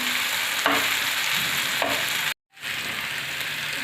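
Chopped tomatoes sautéed until soft in a pan for a village-style eggplant bharit, a close constant sizzle with a few spatula scrapes, cut by a brief silent gap before resuming.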